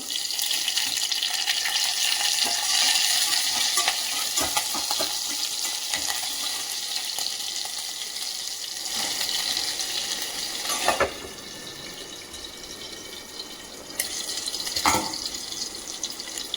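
Mustard seeds and garlic sizzle steadily in hot oil in a pan, a continuous hissing crackle with a few sharper pops, while green gram curry is being made.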